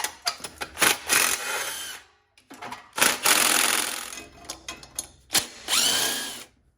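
A power tool removing cylinder head bolts on a Briggs & Stratton Intek V-twin engine whirs in several short bursts separated by pauses, close by, with rattling mechanical clicks between runs.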